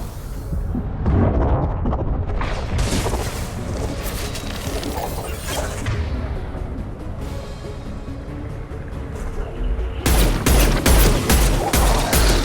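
Impact Shot ability firing in the Mass Effect 2 Legendary Edition video game, a loud burst of crashing, explosive impacts and debris with a dense barrage, then a sharper pounding sequence of repeated heavy hits near the end.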